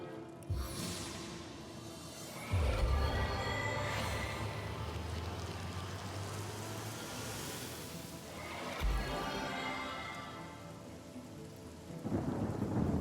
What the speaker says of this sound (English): Okay, make it rain, make it rain.